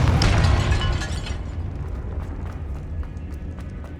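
A Confringo blasting spell bursts in a Hogwarts Legacy game scene inside a tomb with an altar and a sarcophagus, a loud fiery explosion at the start that fades into a long rumbling decay.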